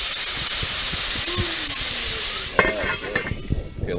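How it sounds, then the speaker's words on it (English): Spaghetti squash dish sizzling in a hot pan, a loud steady broadband hiss that fades slightly toward the end as clinks and stirring noises come in, with no talking. "Oh, here's the sizzle."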